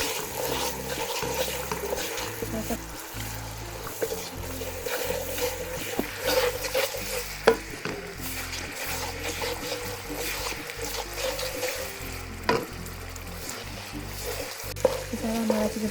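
Spices being stirred and mixed in a pan while cooking vegetable pulao with peas, paneer and potato, giving a steady soft sizzle and scraping with watery trickling texture, fairly close and continuous, with no talking.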